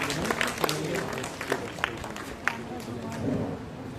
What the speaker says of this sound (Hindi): जोरदार तालियां हो जाएं इन सभी बच्चों के लिए।